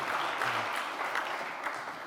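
An audience at a European informatics conference closing session applauds, a soft, even wash of many hands clapping, steady and somewhat distant for the whole stretch.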